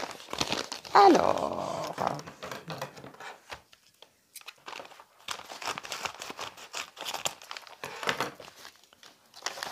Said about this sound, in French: ce moment où je vais ouvrir ce paquet et où je vais vous faire découvrir ces superbes cartes